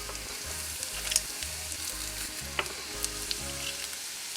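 Minced shallots and garlic frying in butter in a pan, a soft, steady sizzle with a few sharp crackles and pops, heard close up with no talking.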